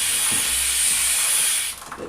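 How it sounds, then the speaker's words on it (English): An aerosol can sprays lubricant onto the chain of a Honda CBR500R motorcycle, producing a loud, steady close-up hiss that lasts under two seconds and then cuts off. "I don't spray it near the rear here, near the tire, because I don't want all chemicals on there."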